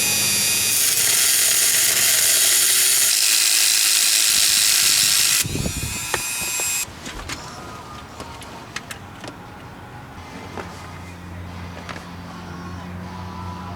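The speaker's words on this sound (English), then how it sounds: "we're going to put the bolts in from the top down" Bolts being driven in from the top down to mount a DIY smoking car alarm module under a car: a loud steady power-tool whir for several seconds, then an abrupt stop followed by scattered clicks, clanks and handling noises.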